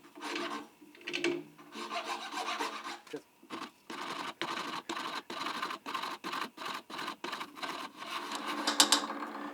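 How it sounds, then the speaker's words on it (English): A bench vise's steel screw is cranked tight in a series of short, regular rasping and ratcheting strokes, close and fairly loud. "tighten up my vise."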